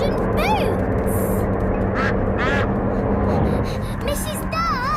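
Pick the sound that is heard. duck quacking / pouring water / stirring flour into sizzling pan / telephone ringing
duck quacking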